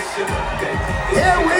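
A crowd aboard the Carnival Celebration cruise ship whoops and cheers in a loose, sustained roar, with an announcer's amplified voice over it.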